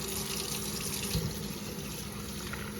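Water runs steadily over a salvaged beehive part being rinsed in a sink, a continuous close hiss of flowing tap water with one brief thump partway through, no voices.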